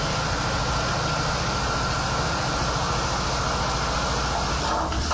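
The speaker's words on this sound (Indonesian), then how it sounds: "Cabai matang, aku giling dengan mesin menggiling ini." A chili grinding machine processing ripe chilies for sambal, its motor running in a steady, low, droning hum at constant level throughout with no talk.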